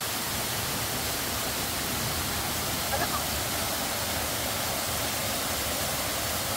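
Sai Kung waterfall stream in Hong Kong, a steady broadband rush of falling water that fills the whole stretch evenly and loudly.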